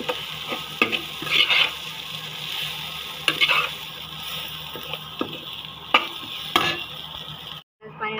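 Utensil scraping and stirring vermicelli roasting in ghee in a pan, with a steady low sizzle of frying, several sharp clinks along the way, close by, no talking.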